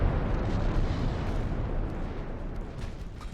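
Heavy naval gunfire rolls on in Ultimate Admiral: Dreadnoughts, a dense, continuous low rumble of booming cannon and explosions that stays loud throughout with no clear gaps.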